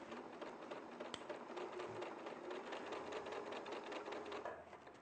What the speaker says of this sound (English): I'll sew slowly.